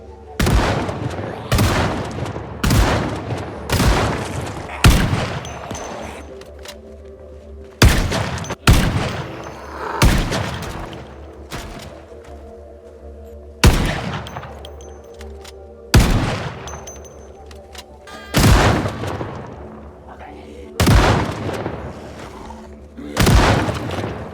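Dense bursts of gunfire from a zombie apocalypse video game boom repeatedly over a steady low rumble, loud and continuous with short gaps between volleys.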